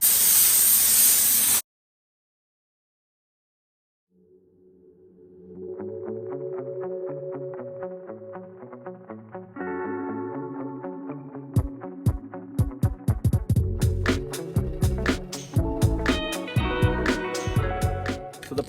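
A short, loud burst of primer spray hisses onto a Pontiac GTO body under repair. It cuts off abruptly, followed by a pause and then music.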